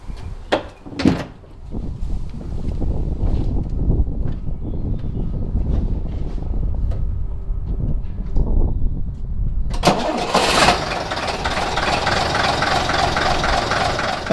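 A vintage London bus in a tight depot doorway shows a few door clunks and knocks, then a diesel engine rumbles steadily at idle and rises as it starts, loud and close with a harsher roar near the end.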